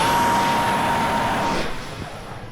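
A Draken model aircraft's electric motor whines loudly with a steady high tone, then fades slightly as the plane pulls away through calm air.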